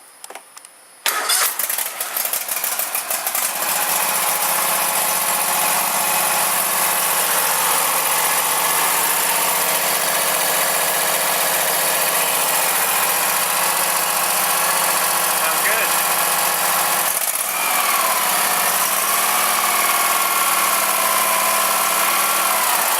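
Craftsman GTS5000 lawn tractor engine, freshly tuned with new spark plug, filter and oil, cranks briefly, catches on choke and settles into a steady, loud, close idle that runs throughout.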